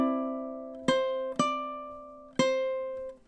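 Ukulele playing measure 15 of the MASH theme: a held chord ringing out, then three sharp strummed chords, the first two close together and the third after a pause, each decaying slowly, close and clear with no talk.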